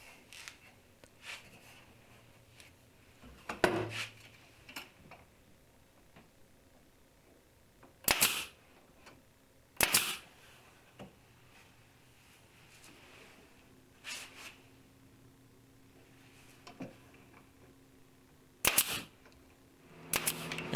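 Sanded 2x2 pine trim pieces with rounded-over edges being fastened with a pneumatic pin nailer, several sharp isolated pops spaced seconds apart over a quiet workshop background, along with faint handling noises.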